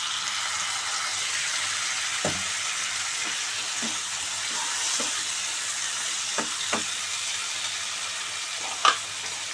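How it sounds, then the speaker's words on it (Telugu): Chopped tomatoes fry in a pan over ginger-garlic paste, giving a steady even sizzle with occasional soft knocks and taps of a spoon, close and unaccompanied by speech. "ఇప్పుడు దీంట్లో మనం కోసి పెట్టుకున్న టమాటాలు వేసుకుందాం"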